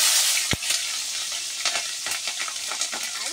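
Chilies and bitter gourd frying in hot oil in a pan, a continuous close sizzle with occasional sharp crackles and pops, plus faint stirring scrapes, no voices.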